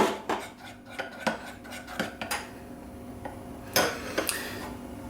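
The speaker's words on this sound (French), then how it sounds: "Là, je mélange." Candy mixture being stirred in a bowl by hand, with a utensil clinking and scraping against the sides in irregular bursts, close and fairly quiet, with no talking.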